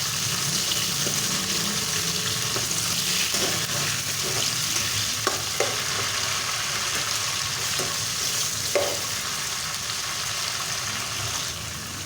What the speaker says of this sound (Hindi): अब इन सबको मिक्स करके इसका मसाला बना देंगे।